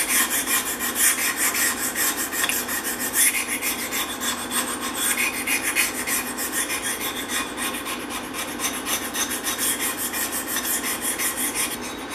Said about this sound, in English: I'm going to take my razor knife with a burr on it, and I'm going to clean up the rust off of the flat machine surfaces